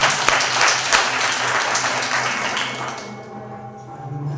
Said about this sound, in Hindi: आइए उस पवित्र परमेश्वर के लिए एक बार जोरदार तालियां हो जाए